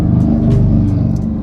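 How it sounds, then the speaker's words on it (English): Small red Kia rental car driving through a Los Angeles neighborhood, heard from inside as a loud, steady low engine and road rumble with faint intermittent hiss. "We are in this cute little red Kia that we rented in LA in our neighborhood"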